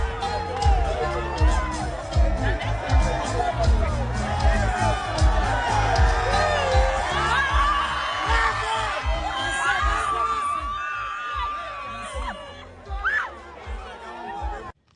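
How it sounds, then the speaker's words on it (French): A large crowd cheers and acclaims a mother, a dense wall of shouts, whoops and excited voices sustained throughout, loud and close, with children's shrieks rising above the roar before it thins near the end. "Est-ce que vous avez entendu comment la mère est acclamée par la foule?"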